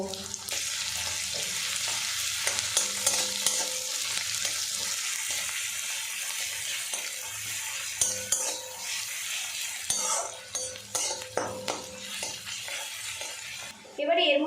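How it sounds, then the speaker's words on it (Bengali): Chopped medium onion frying with a little salt in a pan, a constant loud sizzle with the clatter and scrape of stirring throughout, the pan noise sharpening toward the end. "সামান্য পরিমাণে লবণ দিয়ে পেঁয়াজটা ভাজা ভাজা করে নেব"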